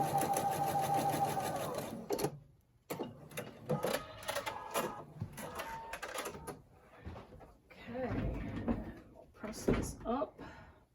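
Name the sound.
sewing machine sewing quilt pieces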